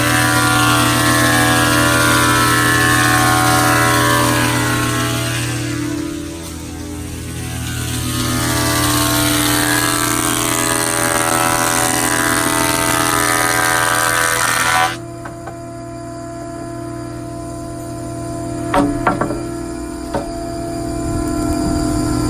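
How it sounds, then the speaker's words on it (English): Loud, steady roar of a wood planer running in a workshop, holding a constant droning tone for about fifteen seconds before the cutting noise drops away and the motor hum winds down, with a few clunks near the end. "let me cut this planer off"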